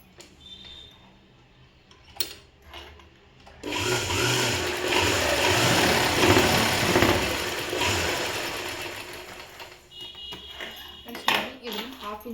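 A sewing machine stitching a half-inch folded hem on school uniform fabric runs in a steady, rapid mechanical whir for about six seconds, with quieter handling sounds before and after.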